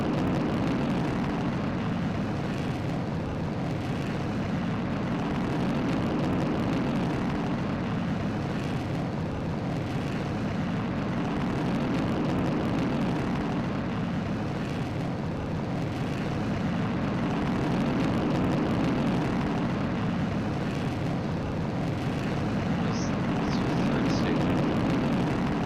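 A rocket engine roars at full thrust after throttling up in Kerbal Space Program, a loud, steady, broadband rumble holding unbroken throughout with faint speech underneath.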